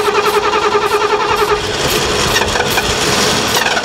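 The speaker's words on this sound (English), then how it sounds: "then we can actually crank it with a key instead of channel lock" A classic American car engine being cranked with a key after a solenoid replacement, a loud, close, steady rhythmic churning whirr that keeps going without catching cleanly, with no talk over it.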